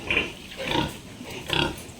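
Young gilt pig, about six months old, on a farm pen grunting and snorting several times in short, uneven bursts, close by.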